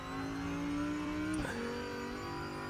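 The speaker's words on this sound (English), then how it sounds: "we've got a great sound. You can hear that engine" An Audi GT4 race car in a racing video game holds a steady engine drone, then its pitch shifts briefly at a gear change, heard at a constant moderate level with no talk.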